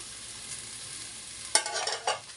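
Ginger hitting a hot pan while red snapper cooks, a low steady hiss breaking into a sudden louder sizzle with a few stirring bursts near the end.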